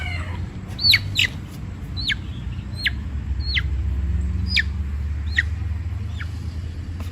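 Chickens in a rural yard near beehives give a series of short, sharp, evenly spaced clucks over a steady low background hum, close and moderately loud, with no talking.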